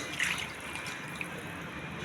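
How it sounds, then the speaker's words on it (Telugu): Water poured into a pot of masala-coated chicken for a gongura chicken curry, a short soft splash and trickle, quiet and close. "చికెన్ మునిగే వరకు వాటర్ అండి."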